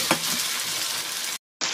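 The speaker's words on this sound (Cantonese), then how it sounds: "煎下去啦，煎完就一邊做一邊煎魚嘅慣常動作啦" Fish sizzles in a hot pan in a Cantonese home kitchen, a dense, loud, continuous frying hiss with no talk, briefly cut to silence near the end before resuming.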